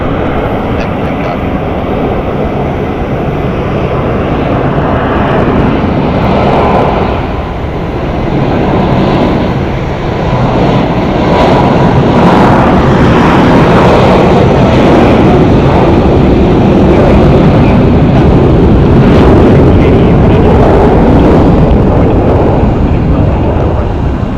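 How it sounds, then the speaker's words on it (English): American Airlines jet on its takeoff roll at Phoenix Sky Harbor Airport, bound for Atlanta, a loud continuous engine roar that swells gradually, with a broad rushing rumble. "we got our American to Atlanta on the roll"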